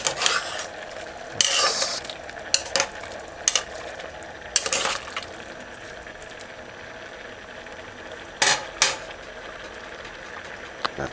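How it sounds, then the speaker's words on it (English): Pig's tail stew with peas being stirred in a pot, with intermittent scraping and knocking strokes over a low steady simmer and no talking. "Just kind of stir it."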